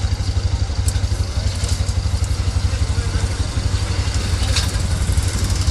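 A motorcycle engine idles with a steady, loud, low chugging throb and some mechanical clatter close by at a market trip.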